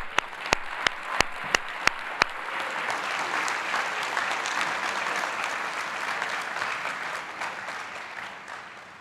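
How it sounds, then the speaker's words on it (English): At the Columbia Business School EMBA graduation ceremony, a few sharp single claps quickly swell into full, sustained applause from the graduating crowd that holds strong before easing slightly at the end. "we really owe you a big round of applause today"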